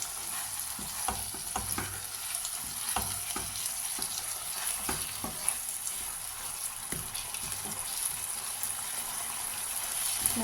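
Steady sizzling of onions frying with spice paste in a pan, a constant crackle with occasional soft clicks of stirring, no voices.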